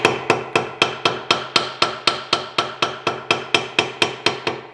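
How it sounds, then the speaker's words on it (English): Bent brad nails are hammered flat with a steady run of about eighteen sharp, evenly spaced metallic strikes at close range. Each blow rings briefly before the next, with no talking. "I'm gonna take my hammer to this and see if I can nail them flat"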